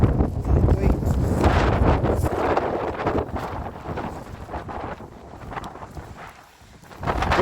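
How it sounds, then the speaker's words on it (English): Strong wind gusting over the Fife coast above an estuary, a steady roaring buffet on the microphone that holds for several seconds, eases briefly, then rises again. "Very windy, as you can hear"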